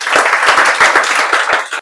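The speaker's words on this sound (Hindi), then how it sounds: "इसके लिए तो एक बार ताली बजा दीजिए आप लोग" A short burst of audience clapping at a coaching class gathering, brisk and fairly close, with distinct individual claps standing out over the crowd for under two seconds.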